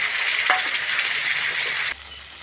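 Gravy sizzling steadily in a pan while being stirred, a dense close frying hiss with a faint stirring scrape, cutting off abruptly near the end.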